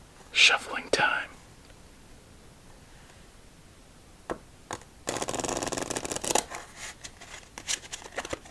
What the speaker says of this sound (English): Shuffling time.